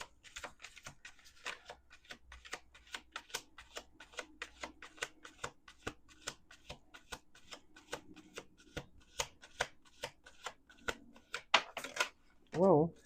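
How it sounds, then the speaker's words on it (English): A deck of cards is riffled and shuffled in a long run of crisp, rapid, close flicks and snaps, with pauses between passes, ending in a final buzzy riffle. "Last shuffle."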